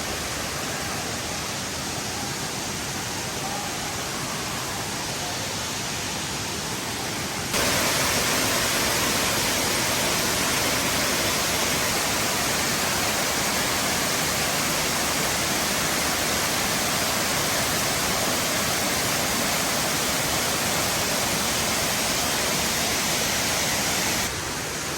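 Canoga Falls pours over a cliff as a loud, unbroken rushing roar of falling water, swelling noticeably stronger after the first few seconds and holding steady throughout.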